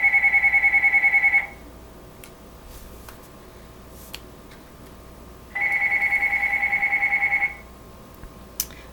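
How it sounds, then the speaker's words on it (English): A phone rings twice nearby during a watercolor painting lesson, each bout a steady electronic warble lasting about two seconds, with a quiet pause between them and no talking. "pardon my phone ringing"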